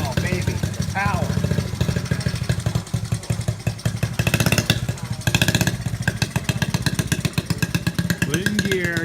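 A 1970 Honda Z50 K1 Mini Trail's small single-cylinder engine sputters to life after a kick start and runs with a rapid, uneven putter, close up, with a few brief voices over it.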